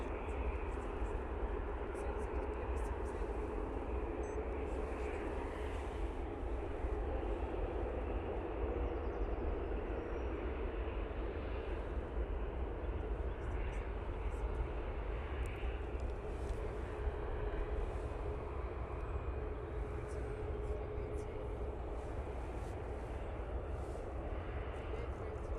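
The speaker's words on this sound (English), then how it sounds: "Emirates started to taxi." An Emirates airliner taxies at Manchester Airport, with a steady, distant low engine rumble and whine that holds at an even level throughout.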